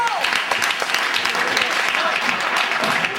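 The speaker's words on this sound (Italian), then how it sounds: "Marcello Ciabatti, un applauso." Audience in a theatre clapping: dense, sustained applause from a crowd, loud and close, holding steady for a few seconds.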